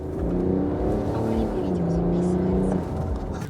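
A high-mileage BMW 535 F10 driving in normal mode, its engine giving a steady interior hum with rising and falling tonal drone as it accelerates gently, while someone talks over it.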